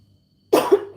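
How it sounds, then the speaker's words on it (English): A woman gives a single sharp cough after a second of near silence. It is close and loud, with a short rough tail. "I coughed, you know."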